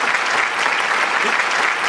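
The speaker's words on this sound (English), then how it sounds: "The crowd loved it. The crowd loved it, Saznoff." Applause sound effect plays during a live stock trading stream, a loud, steady wash of clapping from a crowd lasting a couple of seconds with no voices.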